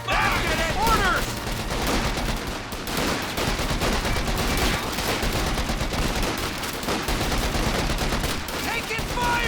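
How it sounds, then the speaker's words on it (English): Dense battle gunfire from the Company of Heroes 2 video game, with rapid rifle and machine-gun bursts layered into a loud, continuous barrage and occasional heavier booms, with shouted voices mixed in. "Taking fire! We're under attack!"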